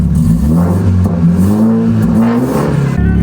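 BMW 330i with a B48 turbo four-cylinder engine and a fresh aftermarket downpipe exhaust, revving loudly and close up, a steady deep drone rising and falling in pitch through continuous throttle blips, with no talk.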